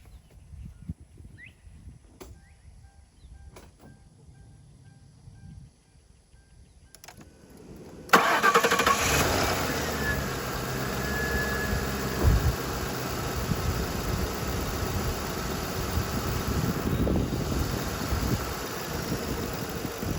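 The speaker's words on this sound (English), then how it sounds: "So I'm going to start the engine up, and we're going to try again." A car engine cranks and catches after several quiet seconds of faint clicks, then settles into a steady, close idle with a constant whirring hum.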